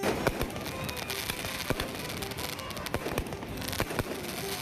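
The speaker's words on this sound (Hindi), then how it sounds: "ये शानदार आतिशबाजी" Fireworks bursting during the Brahmotsav festival at the Rangnath Temple in Vrindavan, with repeated sharp cracks and pops over a dense crackling background.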